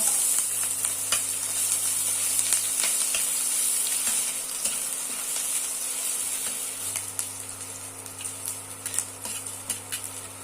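Ginger paste sizzling in hot oil with whole dry chillies, mustard seed tempering and slit green chillies while radish chechki cooks, a steady close frying hiss with scattered crackles throughout, no voices.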